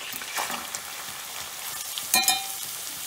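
Mackerel curry with onions sizzles and spits in hot oil as it is stirred, a steady close frying hiss broken by a few sharper utensil clinks near the end, with no voices.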